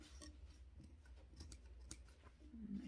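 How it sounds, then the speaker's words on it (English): Scissors snip at fabric material while making a gnome, with several quiet, uneven cuts and crunchy closes spread across a few seconds, close up and faint. "My scissors don't want to cut this material for some reason."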